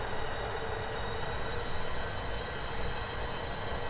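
A JustFlight Avro Vulcan taxis toward the runway in X-Plane 11, its jet engines giving a steady, loud, broadband roar that holds without pause and with no voices.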